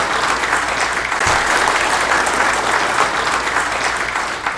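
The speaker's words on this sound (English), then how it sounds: "he deserves a round of applause for his efforts to keep us safe" A crowd at a community meeting gives a round of applause, a dense, even roar of many hands clapping that carries on steadily and tails off slightly at the end, with no voices over it.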